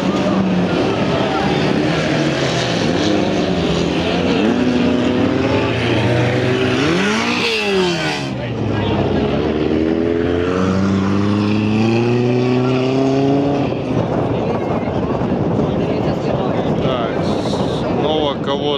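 Several cars revving and roaring in a dusty survival race, loud engine drones rising and falling continuously with wind buffeting, while a commentator talks over the action throughout.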